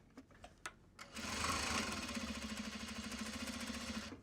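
A sewing machine stitches Japanese fabric project bags, starting after a few soft handling taps and then running steadily for about three seconds with a fast, even mechanical chatter, close and moderately loud.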